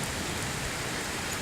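Rain falling steadily on a stormy day, a dense, even hiss of drops on surfaces that stays constant and fairly loud with no other sounds standing out.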